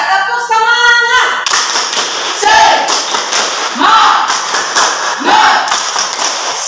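A group in a classroom coaching session claps a rhythmic cheer together in loud, patterned bursts of hand claps, with voices mixed in throughout.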